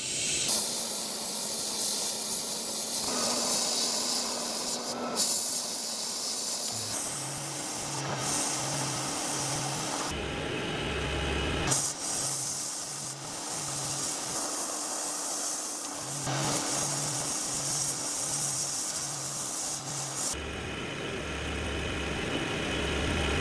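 An 1874 French Gras bayonet is sandblasted, producing a loud, steady hiss of abrasive spray that stops and restarts in bursts, with a low compressor rumble running underneath.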